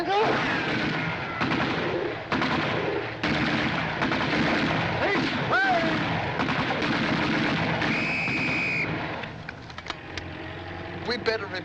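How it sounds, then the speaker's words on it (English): Gunfire in a 1941 Laurel and Hardy war comedy: repeated sharp shots and bursts over several seconds, mixed with voices and other film sound. "Stop shooting! We'll surrender."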